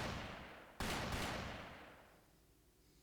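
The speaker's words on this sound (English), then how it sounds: "Gunshots from the next district!" Gunfire in the video game Trails Through Daybreak II, heard as a couple of sharp reports close together, each trailing off into a long fading echo, with a new crack right at the end.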